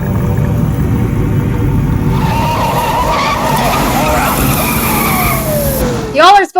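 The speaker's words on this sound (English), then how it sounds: "Y'all are supposed to move over for police siren." A police siren wails through heavy road traffic, with engine rumble and tyre screech underneath and a sharp rising sweep close by near the end, while voices talk over it.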